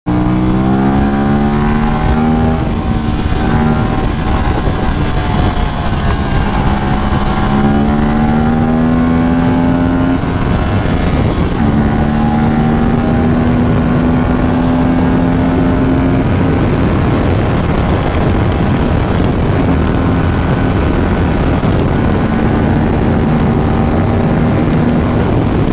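An Aprilia RS 457 motorcycle tears past at high speed, its loud engine note rising through the gears and shifting in pitch as it passes, then fading into a sustained roar, with no voices.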